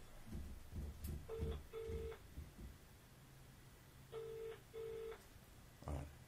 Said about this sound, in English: Let's phone him up and find out.